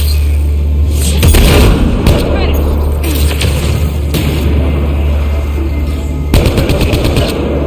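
Turret gunfire in the Mass Effect Legendary Edition video game, loud rapid bursts of automatic shots with booming impacts, repeating in clusters over a constant low rumble, with a voice speaking between them.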